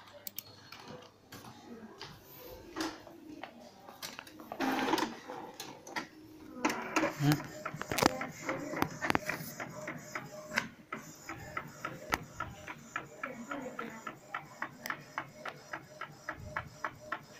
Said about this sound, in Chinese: 打印。